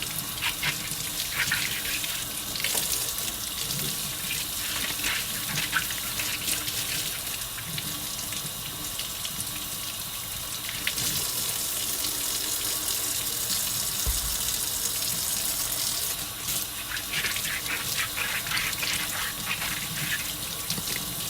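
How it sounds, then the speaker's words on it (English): Fresh corn being shucked over a kitchen sink, with husks rustling and tearing in short bursts over a steady, close wash of running tap water throughout. "So that's all I'm doing is shucking it."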